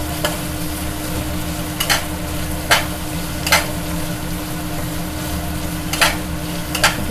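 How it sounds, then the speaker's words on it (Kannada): Chopped okra fries in a hot pan, a steady close sizzle broken every second or so by the scrape and clatter of a spoon stirring it. "ಲೋಳ ಎಲ್ಲ ಹೋಗಬೇಕು ಅಲ್ಲಿವರೆಗೂ ಕ್ಲೀನಾಗಿ ಹುರ್ಕೊಳ್ಳಿ"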